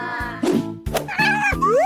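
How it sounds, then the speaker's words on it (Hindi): A cartoon cat meows several times in a row, bright drawn-out mews with rising and falling pitch, close and fairly loud, with a springy boing-like effect and no speech. "अरे देखो कितनी प्यारी बिल्ली है।"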